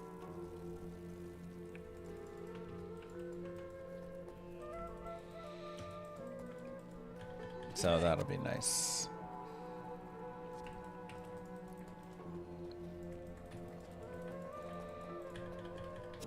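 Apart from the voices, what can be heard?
desert rain in a video game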